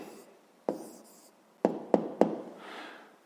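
A pen writing an answer to a fifth-grade math problem, quiet scratching strokes punctuated by several sharp taps close by, with no talking.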